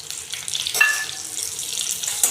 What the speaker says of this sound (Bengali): তেলটার মধ্যে সরষে আর লঙ্কা দিয়ে দিলাম, কারি পাতা দিয়ে দিলাম, একটু সাদা তিল দিয়ে দিলাম।